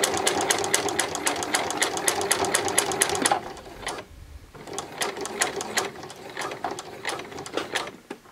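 A sewing machine stitches through denim jeans in fast, even bursts of close mechanical ticking, with a short pause mid-way before it starts again in slower, uneven spurts as if turned by the hand wheel.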